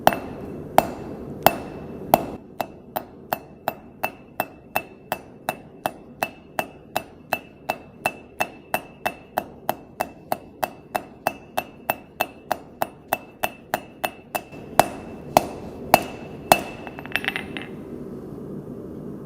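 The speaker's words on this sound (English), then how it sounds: "I'm creating a taper by simply switching back and forth 90 degrees in between every strike" A blacksmith's hammer strikes hot steel while drawing out a taper, about forty sharp, evenly paced ringing blows close by, with a few bright anvil rings near the end and no speech.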